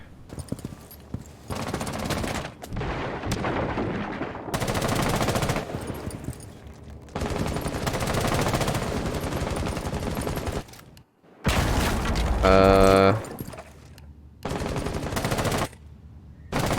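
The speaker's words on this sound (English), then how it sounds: "But also Fuse is shooting." Automatic gunfire from the Rainbow Six Siege video game comes in long, loud, dense bursts separated by brief gaps, continuous and rapid, with no speech over it.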